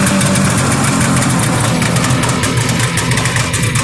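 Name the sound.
1979 Arctic Cat Jag 3000 snowmobile engine running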